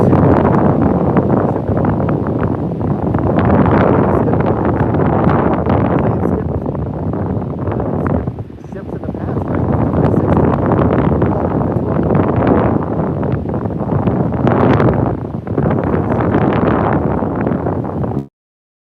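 Strong wind buffets the microphone in loud, gusting bursts that rise and fall, with brief lulls between blasts.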